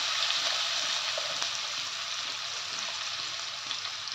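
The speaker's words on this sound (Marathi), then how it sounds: "हा कांदा जरा लाल होईस्तोवर परतून घेते" Chopped onion sautéing in a pan with turmeric, a continuous bright hissing sizzle that stays even and close throughout, with no voices.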